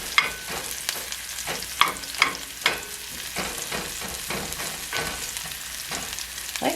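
Ingredients for a farm-fresh frittata sizzle steadily in a cast iron skillet while a utensil scrapes and stirs them in repeated strokes, loud and close, with no talking.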